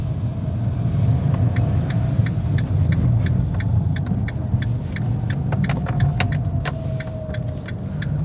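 A 2024 Fiat Panda Hybrid's small engine, helped by its electric motor, hums at low revs with a steady, muffled cabin rumble, while a soft rhythmic ticking repeats over it throughout.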